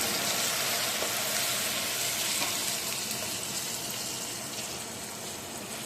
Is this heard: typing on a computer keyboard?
no